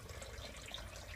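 Kava liquid poured into a coconut shell drinking cup, a steady soft trickle of liquid with faint splashing, continuous and close throughout.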